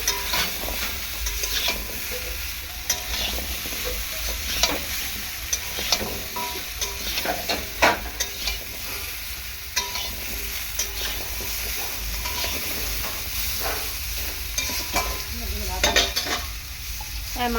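Pumpkin pieces frying in oil in a pan, stirred steadily, giving a continuous sizzle with repeated scraping and stirring clatter close by, with no talking.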